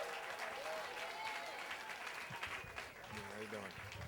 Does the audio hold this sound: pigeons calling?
no